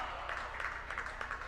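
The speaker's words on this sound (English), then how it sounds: "the Hopkinton crowd goes, oh" A basketball crowd at a Hopkinton boys' game against Dover-Sherborn lets out a sustained collective 'oh' groan, a dense wash of many voices filling the gym for about a second and a half.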